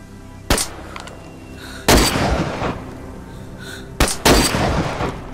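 Gunshots ring out in DayZ: three loud, sharp reports spaced a couple of seconds apart, each with a short echoing tail, close and clear with no talk over them.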